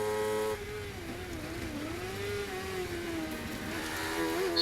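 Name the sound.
race car engine on track at Croft, 750MC Sports 1000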